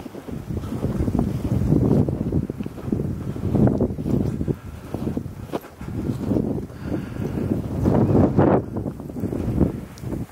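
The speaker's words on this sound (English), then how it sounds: "And it's a bit windy down here at the beach," Gusty wind at a beach buffets the microphone in loud, rumbling surges that rise and fall continuously, with a faint wash of surf beneath and no talk.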